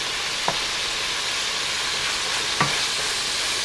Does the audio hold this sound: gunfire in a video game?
no